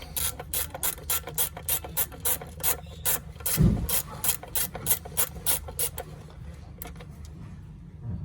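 A ratchet loosening the shorter bolt on a 1.4 Turbo engine, clicking in a steady run of quick, even strokes close by, with a brief thump partway through and no speech.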